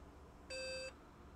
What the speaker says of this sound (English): We heard that with the beep.